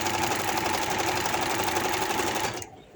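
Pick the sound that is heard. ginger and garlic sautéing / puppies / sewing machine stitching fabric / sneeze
sewing machine stitching fabric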